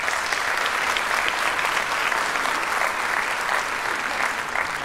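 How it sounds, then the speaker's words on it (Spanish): An audience at a CLEFA 2016 gathering in Santo Domingo applauds with loud, sustained clapping that fills the room evenly from start to finish. "un aplauso para ellos"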